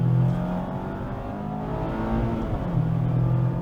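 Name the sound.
Mazda MX-5 Miata ND3 engine during a slide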